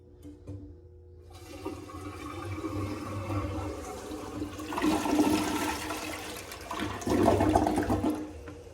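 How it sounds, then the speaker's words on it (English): A restroom toilet at Jellystone Park, with its original handle, flushes with a loud rushing, gurgling surge that swells twice before the tank begins refilling, close and with no talk. "that was a great flush, but I hate it."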